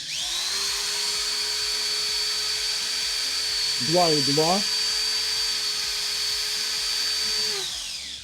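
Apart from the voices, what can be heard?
electric drill running on a Fossibot F2400 power station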